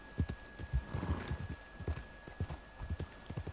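Horse hooves clip-clopping at a steady walking rhythm in Red Dead Redemption 2, a series of close, distinct thuds with a brief whinny-like swell near the start, no talk.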